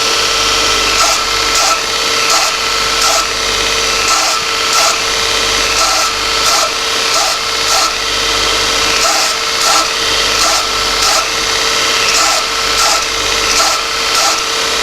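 A belt grinder running a coarse 36 grit belt at low speed flattens and tapers a knife blade tang, a steady abrasive rasp with rhythmic bursts as the steel is pressed to the belt in repeated passes, loud and close with no talk.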